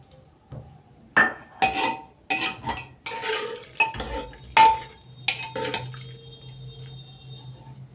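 Fried spice mix stirred into pea ghugni with boiled potatoes in a pot: a series of close spoon clinks and scrapes in an uneven rhythm, with soft wet sloshing between strokes.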